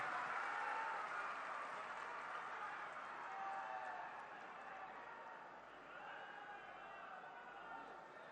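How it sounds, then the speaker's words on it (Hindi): Sustained audience applause at a Maharana Pratap Jayanti celebration event, a dense, steady wash of clapping from a large crowd that continues evenly throughout without speech. "जोरदार तालियां"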